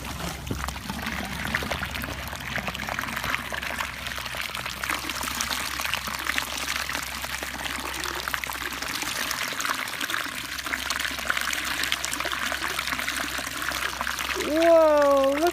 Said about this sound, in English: It's time to let the water out of the pool.